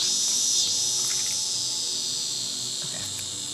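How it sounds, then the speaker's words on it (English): A cicada drones in a continuous high, shrill buzz outdoors, steady and fairly loud throughout with no voices over it. "Really? The cicada."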